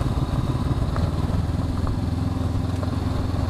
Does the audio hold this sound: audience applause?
no